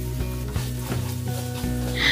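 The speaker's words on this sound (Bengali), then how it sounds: "নাড়াচাড়া করে ভেজে নিচ্ছি" Spice masala with salt sizzling in a pan for radhaballavi, stirred close up, giving a steady fry hiss broken by soft rhythmic scraping strokes.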